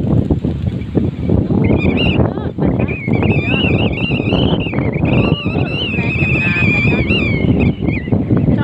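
Strong outdoor wind buffeting the microphone on a sunny day near a fountain and lawn in Australia, a loud continuous rumbling roar with gusty surges, and birds chirping faintly in the background.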